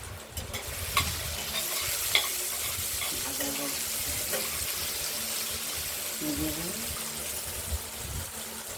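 Paneer and potato curry with turmeric and salt fries in a pan, giving a steady, close sizzling hiss with occasional stirring clinks and scrapes throughout.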